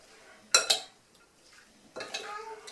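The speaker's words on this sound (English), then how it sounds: "let me give this a stir" A spoon knocks and scrapes against a bowl while pico de gallo with black beans is stirred, two sharp clinks followed by softer scraping, close and fairly quiet.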